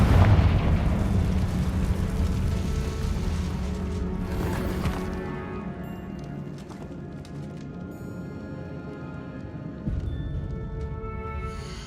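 A Confringo blasting spell in the game Witch Simulator goes off as a loud, close explosion with a deep boom. The rumble slowly fades away, and a smaller thump follows near the end.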